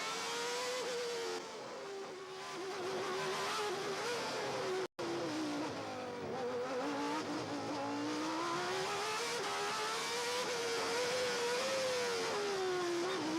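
1975 Formula 1 cars scream through the Monaco tunnel, a continuous loud, echoing engine wail with shifting pitch as cars pass and change gear, and a brief dropout midway.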